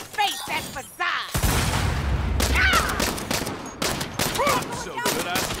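Gunfire from the Saints Row reboot (2022) video game: dense bursts of shots and impacts run through most of the clip, loud and busy, with a voice talking briefly over it.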